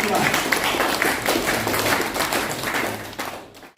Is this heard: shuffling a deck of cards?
no